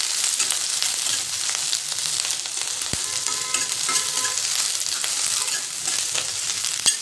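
Capsicum sizzles steadily in a hot pan for crispy soya chilli, a loud continuous frying hiss with occasional stirring clatter and no talk.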